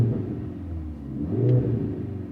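Petrol engine of a Mercedes-AMG GLC 43 Coupe revving briefly, a deep close rumble that swells slightly in the middle before settling back to a steady growl.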